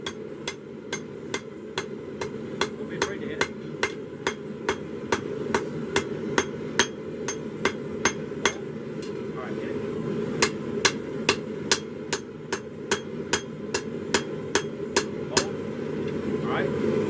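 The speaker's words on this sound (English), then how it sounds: "You just hit the steel directly" Hammer blows ring out in a steady, evenly spaced rhythm as steel is struck on an anvil during blacksmithing, each strike a sharp bright clang, close and loud over a low continuous roar, likely a forge fire, through the whole stretch.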